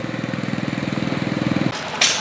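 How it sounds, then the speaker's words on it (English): A small Ford lawn mower engine runs close by at a parade and steam show, a steady rapid chugging that cuts off near the end, followed by a brief hiss. "Here's a little Ford lawnmower, it looks like it."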